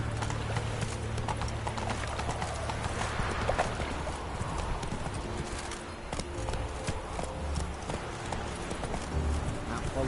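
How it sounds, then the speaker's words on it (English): A horse gallops in a video game, its hoofbeats pounding in a steady, continuous clip-clop rhythm for the whole stretch over a busy background of game ambience. "Run, Roach. Slow now. Whoa. Giddy up"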